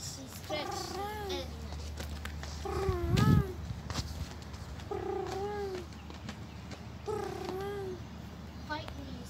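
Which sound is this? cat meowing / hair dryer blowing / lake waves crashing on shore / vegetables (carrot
cat meowing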